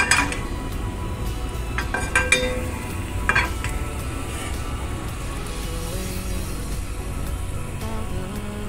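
Water is splashed into a hot pot to test its heat, giving a soft sizzle under clinks and scrapes of cookware in a kitchen where a ribeye steak is being cooked.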